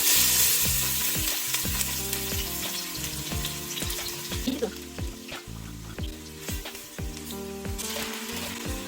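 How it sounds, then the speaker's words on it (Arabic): Onions sautéing in a pan, a steady loud sizzle and frying hiss with stirring scrapes throughout, no talk. "هسه اول بدايه راح احمس البصل"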